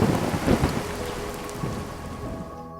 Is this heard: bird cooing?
no